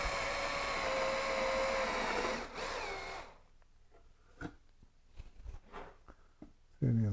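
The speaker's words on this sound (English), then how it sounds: "So just drill on a low speed and make sure that you're brushing the sawdust away." A drill whirs steadily at low speed for about three seconds while making a concrete sink, then stops, followed by quiet scraping and light knocks.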